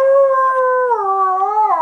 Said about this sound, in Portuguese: Latindo.